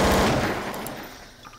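Rapid automatic gunfire from CSGO weapons in the video game Garry's Mod, a dense burst that is loudest at the start and then trails off quickly.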